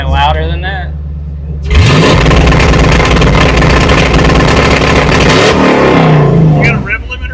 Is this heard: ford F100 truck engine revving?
yes